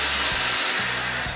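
A hair dryer blows on hair during a home perm styling session, a loud, close, continuous hissing whoosh of air with slight low rhythmic flutters as the dryer is moved.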